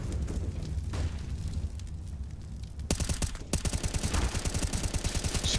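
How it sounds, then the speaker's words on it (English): Gunfire exchanged inside a smoke cloud in the CS:GO video game during an ESL Pro League match between NaVi and Evil Geniuses, sparse at first, then rapid bursts of rifle shots in close succession, loud and near. "Shots going both directions inside of the smoke."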